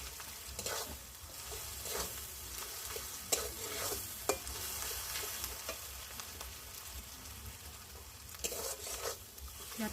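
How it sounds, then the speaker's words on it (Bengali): Spice paste with chili powder and salt stir-fried in a pan, a steady loud sizzle running throughout with repeated scraping strokes of a spatula and a few sharp clicks. "লঙ্কার গুঁড়ো আর দেবো স্বাদ অনুযায়ী নুন, দিয়ে মশলাটা ভালো করে কষিয়ে নেব।"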